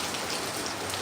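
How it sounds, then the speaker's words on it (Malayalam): Heavy monsoon rain falling in Kozhikode, Kerala, amid wind, a constant close patter and hiss on nearby surfaces, unbroken and without speech. "കാറ്റും മഴയും"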